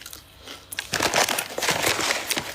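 Thin, crispy chips crunch loudly and close up during eating, a burst of crackly bites after a brief quieter moment.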